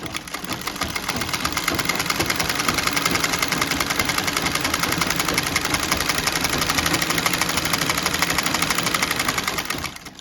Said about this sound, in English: then I start sewing my buttonhole